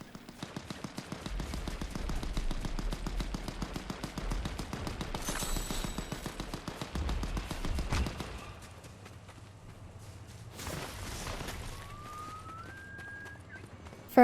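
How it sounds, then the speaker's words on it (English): Rapid gunfire from the video game Fortnite crackles in a fast, regular burst for about eight seconds, then fades to scattered faint shots and game sounds. "one person gets wiped, but shots continue while no one is shooting"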